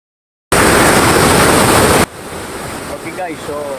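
A waterfall in Negros roars loud and close as a dense wash of rushing water, then drops abruptly to a quieter, more distant flow with faint sounds of people around.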